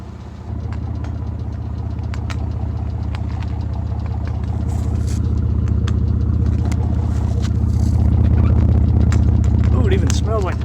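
A Jeep truck engine idles steadily while running an exhaust-powered popcorn machine, a deep continuous rumble that builds slightly louder toward the end, with scattered popping and rattling above it.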